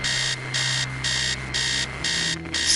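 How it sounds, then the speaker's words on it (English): An alarm clock in the video game Stories Untold rings loudly in steady repeated bursts of electronic beeping, pulsing on and off about twice a second over a low background hum. "Stop the alarm!"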